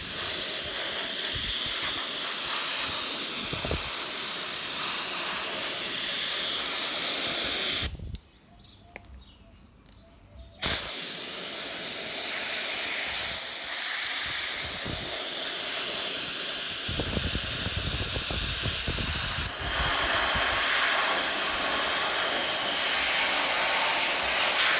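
Spray directed at a K&N engine air filter to dry it, long steady hissing bursts held for several seconds, broken by a brief quiet gap before spraying resumes.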